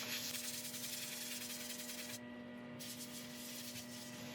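A cloth rubs a loose finish mix into a resin piece spinning on a woodturning lathe, making a steady, close, continuous hiss and scrubbing over the lathe's constant motor hum, with a brief quieter lull midway.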